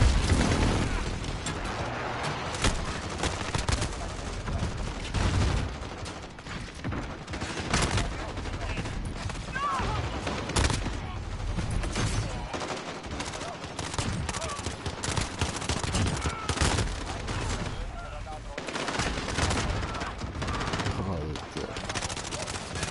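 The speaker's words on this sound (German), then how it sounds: "wo sich von allen Seiten die Schüsse treffen" Dense gunfire from every direction in the Call of Duty Modern Warfare video game on PS4, with overlapping rifle bursts, machine-gun rattle and occasional booming explosions, loud and continuous throughout.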